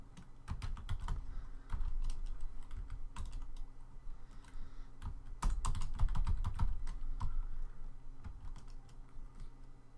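Computer keyboard typing at a desk during Java game engine work, with bursts of sharp, close key clicks and clacks in uneven runs, some heavier thumps mixed in, and no talking.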